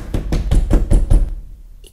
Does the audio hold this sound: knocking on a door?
yes